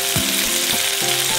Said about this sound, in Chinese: 用熬出来的虾油再加蒜末爆香，再倒入虾仁，把两面都煎到金黄